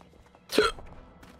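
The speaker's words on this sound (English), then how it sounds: "Oh, hiccups." A character in the stealth game Dishonored lets out a single short hiccup, a sharp vocal catch rising out of quiet background sound.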